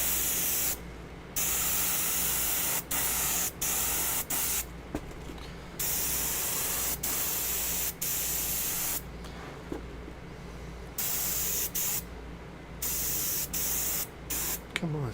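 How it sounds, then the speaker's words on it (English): Spray can laying down a glossy clear coat of paint, a close, loud hissing spray in repeated bursts of a second or two, broken by short silent gaps and brief clicks between passes. "it's got a glossy clear coat, so I want to put it on heavy enough to where it shines"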